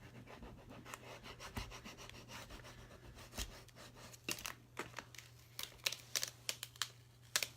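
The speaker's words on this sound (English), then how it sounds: "I got my little scraper, and I'm just going to go ahead and do one of the anchors" A small scraper rubs a vinyl monogram decal onto a Target Dollar Spot tray, giving soft scratchy strokes that grow into sharper, quicker rubs and taps toward the end, fairly faint and close.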